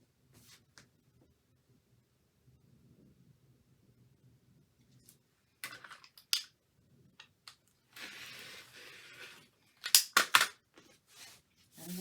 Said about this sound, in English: And that's the first trim.